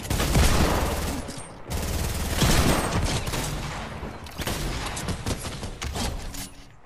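Gunfire rings out in a first-person shooter game with a P90 and a Desert Eagle in play. The shots come in dense, loud, continuous bursts with brief breaks between them and no voices.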